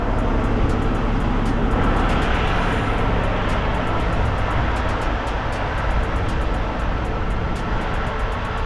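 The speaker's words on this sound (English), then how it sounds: "I got an airbag leaking." Steady loud hiss of air escaping from a leaking suspension airbag on a Kenworth W900 truck, continuous and close against a broad rushing background with faint repeated ticking.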